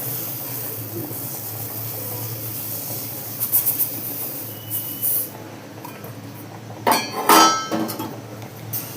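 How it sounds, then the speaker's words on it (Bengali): Metal spoon clinking and scraping against a pot while sugar is stirred into simmering Gobindobhog rice payesh, with brief sharp clinks in short bursts over a low steady background hum. "পরিমাণ মতো চিনি দিয়ে আবারও ভালোভাবে নেড়ে নিচ্ছি, যাতে চিনি পায়েসের সঙ্গে ভালোভাবে মিশে যায়"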